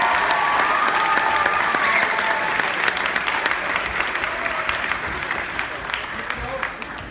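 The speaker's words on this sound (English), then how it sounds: "Give him a round of applause." An audience at a school musical's senior recognitions claps in sustained applause that slowly fades, with a voice speaking over the crowd.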